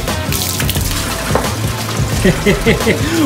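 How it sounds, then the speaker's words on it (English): A Fluval FX6 aquarium canister filter pumps water from one tank into another, making a steady rushing, gurgling flow with bubbly splashes toward the end. "We're taking the water right from that tank and we're pumping it into this one."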